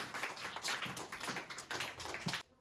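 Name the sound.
children clapping for a classmate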